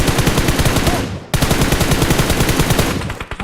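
Loud, continuous automatic gunfire from the mobile battle-royale game PUBG Mobile, rapid bursts rattling without pause, with a brief cut-off near the middle before the firing resumes just as dense.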